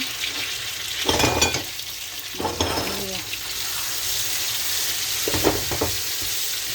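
Chili and garlic fry together in a pan of oil with a steady sizzle, broken by a few louder bursts of stirring and scraping, heard close and without any talk.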